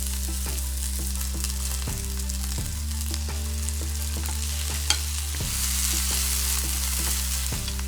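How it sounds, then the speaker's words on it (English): Chopped onions sizzle steadily in hot oil in a pan for bitter gourd, with a few sharp stirring knocks and scrapes; a constant low hum runs beneath, and no one speaks. "we'll put the onions in and just saute the onions"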